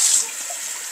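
Tap water runs into a container being rinsed before cleaning a new Air Still Pro, a steady hissing splash that starts louder for a moment, then settles into an even, close stream with no talking.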